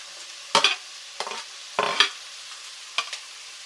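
Carrots and capsicum land in a hot frying pan for egg fried rice, sending up four separate bursts of sizzle and scraping stirs over a faint steady hiss.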